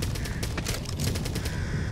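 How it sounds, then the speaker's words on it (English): Crows caw in the zombie shooter game Back 4 Blood, their calls buried in a dense, constant wash of gunfire and game noise. "Birds."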